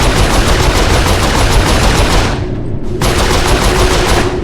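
Rapid automatic bursts from a turret machine gun in the Saints Row IV video game, loud and close, pounding away nonstop with one short lull midway.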